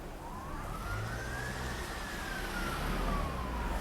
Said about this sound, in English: Oh, police cars everywhere.